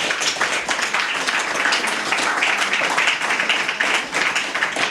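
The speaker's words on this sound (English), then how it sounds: "let's give Tamie another round of applause." Sustained audience applause fills a room after an evening speaker-series talk on truth in reconciliation, dense steady clapping throughout with no talk over it.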